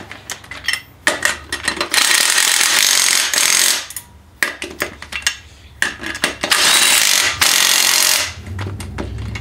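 An impact wrench driving brake bolts on an S30 front brake upgrade, several long loud rattling bursts separated by short pauses and clicks.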